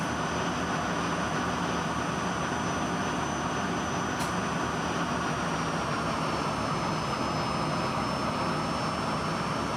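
An Aermacchi MB-339 jet in Flight Simulator 2020 roars continuously, producing a steady broadband engine rush with a high whine running underneath it, loud and unbroken throughout with no talk.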